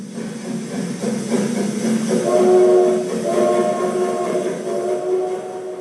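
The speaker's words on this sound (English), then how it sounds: "it looks like the train's moving again" Steam train on a rail line starting to move again, a low steady rumble of wheels and engine with hissing steam and rising whistle-like tones, heard close and without talk.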